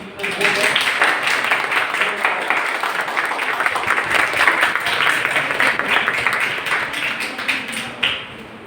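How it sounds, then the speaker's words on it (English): An audience claps after an expert lecture on rainwater harvesting, a steady wash of many hands clapping that fills the room, then fades out near the end. "I don't want applause."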